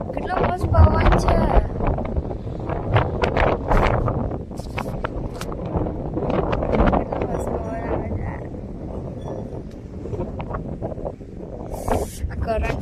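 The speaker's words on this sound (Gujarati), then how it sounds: "કેટલો મસ્ત પવન છે." Wind blowing outdoors over open farm fields, a steady rushing buffet across the microphone that fills the whole stretch, with a person talking over it throughout.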